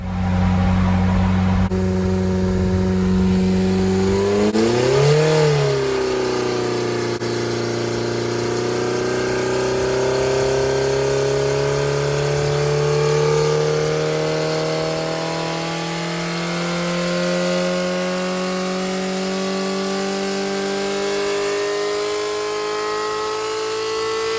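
A Ford Pinto engine runs flat out at high revs for a long stretch, a loud droning whine that dips and climbs as the pitch shifts, close by.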